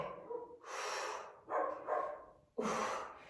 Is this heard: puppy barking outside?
yes